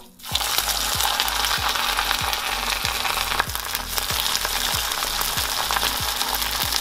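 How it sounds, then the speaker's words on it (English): Salmon skin coated in crushed pork rinds frying in hot oil, a loud steady sizzle throughout with a regular rhythmic ticking clatter underneath, close and alone. "just put some pork rinds on there, and then drop it into your hot oil"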